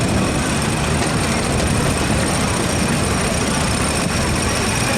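A Case Model D tractor, originally on steel wheels, idling as it moves along in a centennial parade, with a continuous rough low rumble held at a constant level throughout.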